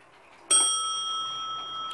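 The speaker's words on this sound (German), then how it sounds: "Ja, diese Uhr hat einen Schlag auf eine Glocke," A Junghans wall clock strikes its bell once, a clear bright ring with a sharp attack that then sustains and slowly fades, heard alone in a quiet room.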